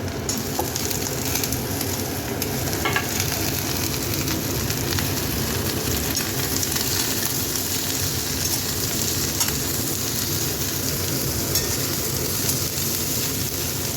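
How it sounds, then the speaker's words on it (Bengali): Continuous loud sizzling of vegetables frying in a pan for sambar dal, with occasional scraping as they are stirred, steady throughout and without talk. "খানিকক্ষণ এটাকে ভেজে নেব নেড়ে চেড়ে।"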